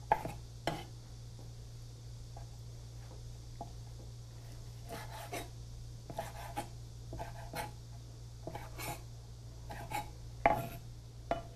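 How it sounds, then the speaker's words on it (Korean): A knife cuts squid legs into 4 cm pieces on a board, a series of quiet irregular taps and short scrapes with brief pauses, close but soft over a low steady hum, with no voices. "다리도 4cm 정도 썰어주세요"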